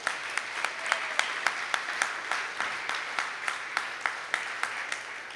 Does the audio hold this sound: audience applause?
yes